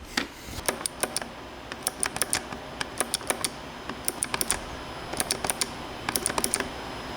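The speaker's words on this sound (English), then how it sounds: "You can at least hear the difference between the strums." Sharp plastic clicks from the strum switches of a custom Clone Hero guitar controller, close-miked, coming in quick irregular bursts and pairs over a steady low hum, with no talking.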